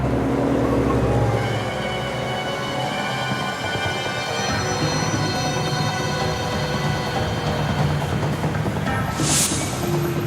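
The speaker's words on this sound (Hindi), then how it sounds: "आपके लिए ही आई है गाड़ी" A car engine hums steadily at close range on a busy street, with a low rumble and faint traffic noise continuing throughout.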